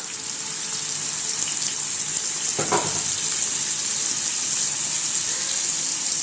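Three onions frying in hot oil for street-style egg kothu parotta, a steady loud hiss and sizzle throughout with one brief clatter partway, no talking.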